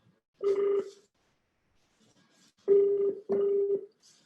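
Telephone keypad tones sound while a call is placed on a Filipino TV game show, three steady beeps: one alone, then a pause, then two close together.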